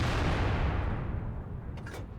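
An artillery shell fires in World of Tanks: one loud, close booming blast that rolls off into a long, fading rumble, with no voices over it.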